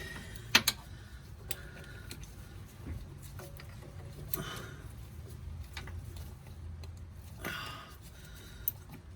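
A wrench loosens the AC compressor bracket on a 1999 Toyota Sienna engine, with scattered metallic clicks, ratchet ticks and a few sharper clanks against a low, steady background.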